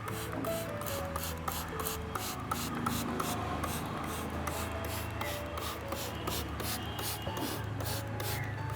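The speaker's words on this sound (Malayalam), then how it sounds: "നമ്മളെപ്പോഴും ചെയ്യുന്ന പോലെ തന്നെ ഫുൾ പ്ലാന്റിലായിട്ട് സ്പ്രേ ചെയ്ത് കൊടുക്കുക" A hand sprayer mists fish amino organic fertilizer over a whole plant in quick rhythmic pumps, each a short hissing burst, close and steady, with no voices.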